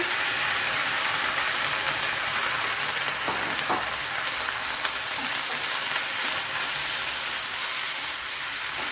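Brinjal pieces tipped into a pan of frying onions, a dense, loud, continuous sizzle and hiss that holds steady throughout with a few faint clatters near the middle.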